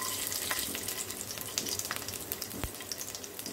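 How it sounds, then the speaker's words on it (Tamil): Garlic cloves frying in oil with fennel seeds and curry leaves for a potato fry, giving a steady, close crackling sizzle with small pops. "பூண்டு நல்லா வதங்கட்டும், நல்லா ஒரு ஃப்ளேவர் கொடுக்கும் இந்த வறுவலுக்கு"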